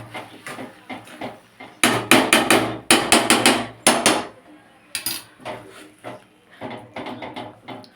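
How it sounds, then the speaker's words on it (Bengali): Ghee being mixed into spinach ghonto in a pot, loud rapid knocks and scrapes of a spoon against the metal in bursts, with quieter stirring taps between them. "আমার ঘিটাকে ভালো করে মিশিয়ে দিলাম"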